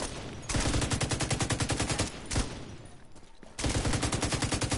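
Rapid automatic gunfire rattles in loud, dense bursts in a shooter video game, with a short pause and another sustained burst, near and unbroken by talk.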